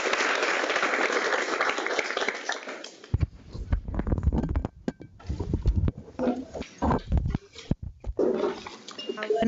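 Audience applause at a symposium session, a dense broadband wash of clapping in the first three seconds, then breaking up into scattered claps and room noise.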